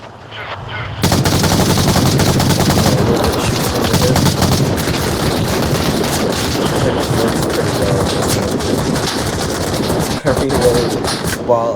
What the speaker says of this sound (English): The darker ranges I am getting shot at.